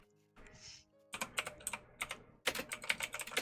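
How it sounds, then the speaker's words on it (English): Fast bursts of typing on a computer keyboard, close and crisp, with a short pause between two clusters of rapid clicks after a faint opening sound. "I hear typing."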